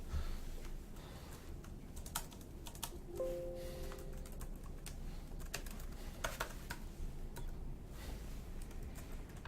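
A password is typed on a computer keyboard, a close, fairly quiet run of irregular key clicks and taps over several seconds with no talk.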